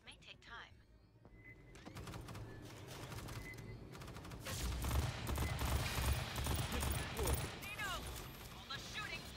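Dense video game gunfire crackles in rapid, overlapping bursts that grow louder midway, mixed with voices talking over the shooting.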